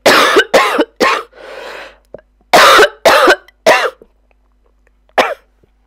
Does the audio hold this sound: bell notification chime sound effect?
no